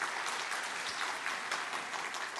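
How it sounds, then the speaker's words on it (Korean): Members of a Korean church congregation at a special early-morning prayer service clap steadily together, a brief continuous wash of applause with no speech over it. "우리 하나님께 감사의 박수를 드리겠습니다."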